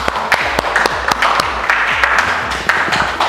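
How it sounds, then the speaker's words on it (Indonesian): Scattered hand claps ring out in a small classroom audience after a student group's presentation during a teacher-training performance assessment at Universitas Sebelas Maret, sharp and close, with voices murmuring underneath. "Tepuk tangan dulu biar semangat."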